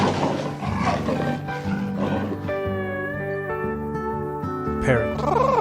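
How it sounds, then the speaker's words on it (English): A leopard gives a rough, growling roar, then a lower rumbling call, fairly loud over background music. "leopard"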